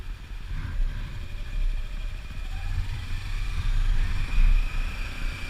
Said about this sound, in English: All this traffic.